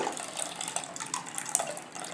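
Water splashes and trickles as it is poured into a kitchen vessel while rava idli batter is being prepared, a continuous close pouring sound with small splashes and no speech.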